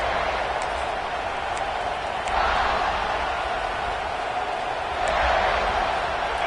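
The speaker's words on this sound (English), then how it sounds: "This crowd ready to make its presence known" Steady roar of a football stadium crowd at a South Carolina vs Texas game, a broad continuous wash of massed voices with two brief swells, no distinct talk on top.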